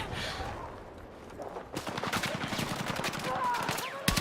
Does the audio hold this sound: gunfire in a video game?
yes